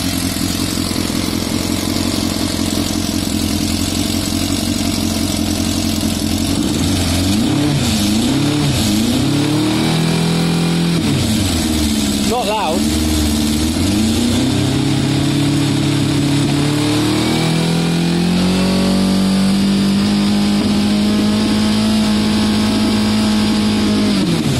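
A Yamaha Fazer FZS 600cc motorcycle project bike on its first start-up attempt, its engine running steadily at close range with repeated rising and falling revs, a brief dip midway and a higher held idle at the end, no speech.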